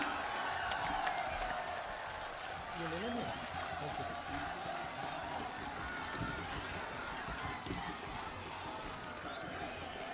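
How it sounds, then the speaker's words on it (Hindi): A political rally crowd in Jammu and Kashmir gives Rahul Gandhi a standing welcome. Steady applause carries on beneath someone speaking over the loudspeaker. "राहुल गांधी जी को खड़ा होकर तालियों से स्वागत करें"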